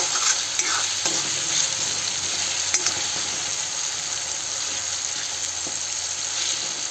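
Masala with half a spoon of turmeric, red chili and a big spoon of salt sizzles loudly in a pan for poha, and the stirring spoon adds repeated scrapes and clicks over the constant frying hiss.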